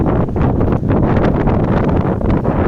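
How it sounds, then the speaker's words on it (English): Strong wind buffets the microphone at Laguna Fuente de Piedra in over 30-degree heat, a loud, continuous roar with gusty rises and dips, nothing else audible. "Very windy at the moment, but it's over 30 degrees."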